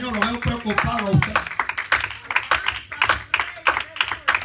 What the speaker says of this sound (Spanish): Hay una ofrenda de palmas al Rey de Reyes y Señor de Señor.